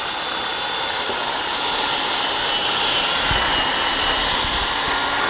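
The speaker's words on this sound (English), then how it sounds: "Drill that hole." A 6-inch aircraft power drill bores hardware holes through wood guided by a drilling jig, a loud steady high whine that swells slightly midway, with a few light knocks near the end.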